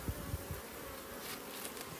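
Honey bees buzz around a double nuc hive, a faint, steady hum close by with a few soft bumps and no talking.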